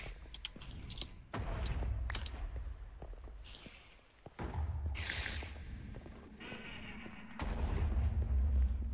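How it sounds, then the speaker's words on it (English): Repeated explosions from a dragon in the modded Minecraft pack RLCraft, booming one after another in close succession with little pause, loud and continuous across the whole stretch. "What is that non-stop explosion?"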